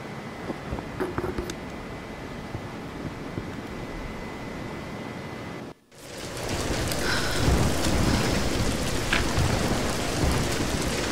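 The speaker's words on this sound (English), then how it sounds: "We're getting closer to the storm." Heavy rain pours steadily in the Tomb Raider reboot storm, a dense wash of drops on surfaces with rumbling thunder, briefly cutting out for a moment before returning louder and fuller.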